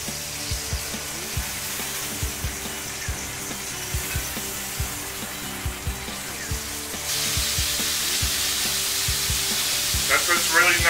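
Galbi sizzles on a griddle top with a constant frying hiss, close and fairly loud. Steady scraping and tapping strokes run through it, and the hiss swells louder and brighter toward the end.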